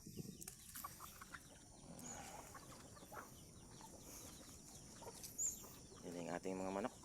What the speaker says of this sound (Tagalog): Yan yung ating mga manok.